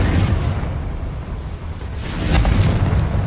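A Confringo fire-blast spell cast in Hogwarts Legacy on PS5 gives a booming burst that rises near the end over a steady rumbling bed, with a voice present.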